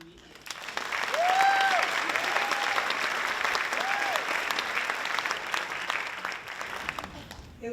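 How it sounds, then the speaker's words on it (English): A theater audience at a sold-out Company Theatre show applauds a performer being introduced, a sustained wash of clapping that swells and then slowly fades, with a few brief tonal sounds rising above it. "Please put your hands together for Tiffany Needham."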